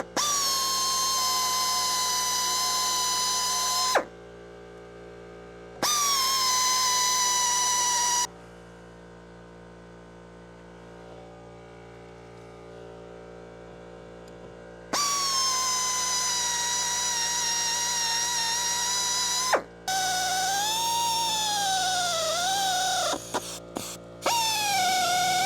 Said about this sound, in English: It looks like we have a drill situation